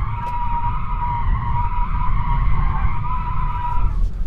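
Tyres on a Tesla Model 3 Performance squeal steadily as the car is spun around in a slide, a loud continuous screech over low rumbling road noise, fading at the end.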